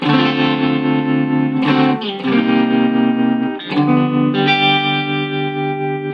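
Electric guitar through a Tube Screamer overdrive pedal with a thick, overdriven crunch, playing sustained chords in three strummed phrases with a short pause between each.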